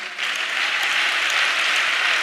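A church congregation applauds during a sermon, a broad, even wash of clapping from many hands that swells slightly and holds steady throughout.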